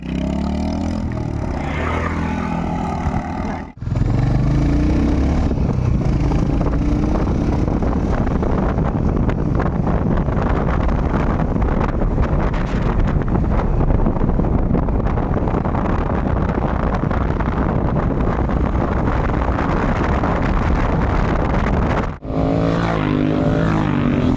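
A Royal Enfield Hunter 350 motorcycle on the move: a loud, steady engine drone with heavy wind rush that carries on unbroken for most of the ride, briefly cutting out near the start and end.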